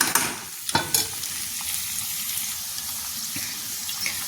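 Chickpeas and peas cook in a pan over a low gas flame, giving a steady close sizzle with a few sharp stirring knocks early on.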